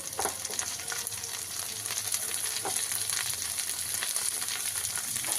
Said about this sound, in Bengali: টমেটো কুচিটা একটু ভালো করে ভেজে,